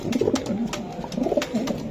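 Racer pigeons coo in short, low, overlapping bursts close at hand, with a few soft clicks and rustles between calls.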